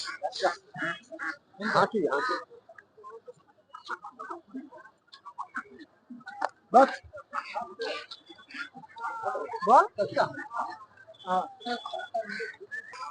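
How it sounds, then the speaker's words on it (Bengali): Ducks, a goose and chickens quack and cluck repeatedly in a busy village poultry market near the Bangladesh border, with people talking nearby between the calls. "এখান থেকে শুরু করে প্রচুর বড় হাঁস মুরগির বাজার এটা।"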